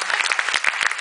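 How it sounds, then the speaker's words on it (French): An audience applauds at a jazz awards ceremony, a dense patter of many hands with a few sharper individual claps standing out, continuous and moderately loud throughout. "Et je demanderai des applaudissements s'il vous plaît."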